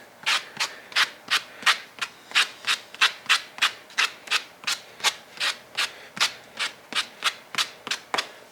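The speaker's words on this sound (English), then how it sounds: "So it's using a sander to sand these down nice." Sanding removes burrs from the cut edges of car card boxes in quick, even back-and-forth strokes, about two dozen rasping passes close up with no voices.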